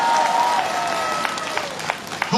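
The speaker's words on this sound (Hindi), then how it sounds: "हाँ ताली जोर से बजाइए एक बार।" Crowd applause at a public address during a hunger strike in Arunachal Pradesh, a steady wash of clapping from many people, fairly loud and continuous, with a faint tone fading beneath it.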